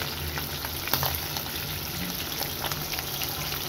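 Small hilsa fish frying lightly in oil in a pan, a steady close sizzle and crackle with a few sharper pops, no voices.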